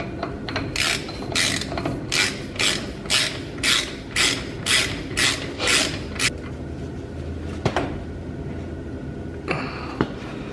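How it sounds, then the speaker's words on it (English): A ratchet clicks in a quick, regular series of about a dozen strokes while a jam nut is tightened on the axle hub of a Dodge W150, then stops, followed by a couple of sharp metallic knocks; no talking. "And you take your jam nut and put it on."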